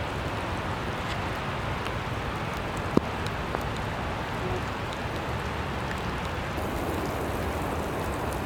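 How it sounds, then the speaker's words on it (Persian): Steady rain patters on leaves and the ground of a forest on a rainy day, a dense, even hiss that holds for the whole stretch with one sharp tap partway through, no voices. "بچه واقعا بارون داره پدرم در میاد، تو گل دارم فرو میرم، بارون"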